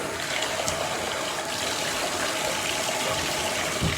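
Steady running water pours over long hair and scalp during a wash, a continuous broadband rush with a slight surge near the end and no talking.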